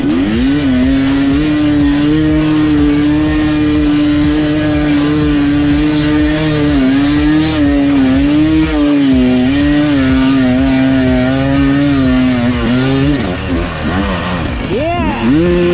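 A dirt bike engine revs hard and steadily on a sandy enduro hill climb, a loud, close, continuous drone with pitch swings, and a voice is briefly heard over it.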